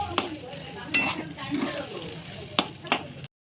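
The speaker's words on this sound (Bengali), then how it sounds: "জিরের গুঁড়ো দিয়ে দিয়েছি অল্প দিয়ে এবার আবার একটু ভাজবো" Ground cumin frying in a pan with a low sizzle, punctuated by several sharp clinks of a utensil stirring against the metal.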